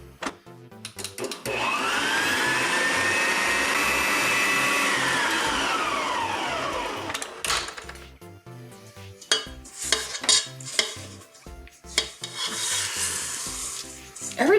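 An electric stand mixer beats cookie dough for mint chocolate cookies after an egg is added. Its loud, steady whir starts, slows and stops, then gives way to clattering bowl and utensil sounds and a brief restart.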